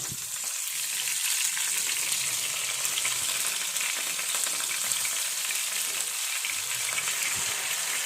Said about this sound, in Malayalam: ഇനി മീൻ വറുക്കണം